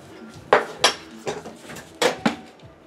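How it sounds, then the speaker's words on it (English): A small egg muffin pan for the microwave is handled, giving a few short, close clanks and rattles in quick uneven succession over a quiet room background. "And then I bought this little thingy. Egg muffin pan."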